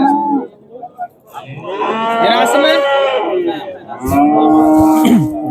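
A calf moos loudly and close by at a livestock market, with several long drawn-out calls over a busy crowd, and a voice speaks briefly.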